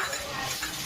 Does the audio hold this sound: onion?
yes